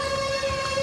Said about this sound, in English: You heard the siren.